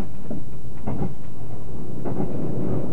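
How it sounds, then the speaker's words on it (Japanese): Limited Express Yakumo rumbling along the rails while crossing a bridge, heard from inside a panorama-seat car as a loud low-frequency roar with recurring rhythmic clunks of wheels over rail joints. "列車は第7高橋川橋梁を渡ります。"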